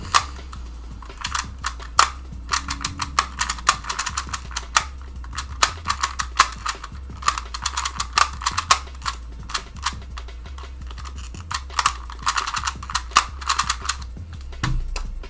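Rapid, uneven clicking of fingers typing on a computer keyboard, close and crisp, with bursts of keystrokes and brief pauses and no talking.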